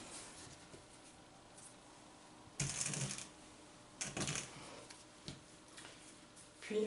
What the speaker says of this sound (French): on va la découper en 3 parts égales à peu près